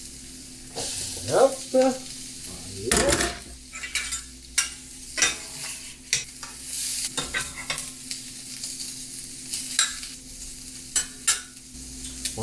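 Chicken pieces fry in oil for chicken fried rice, with a steady close sizzle punctuated by repeated clattering stirs of a utensil against the pan; a voice speaks briefly.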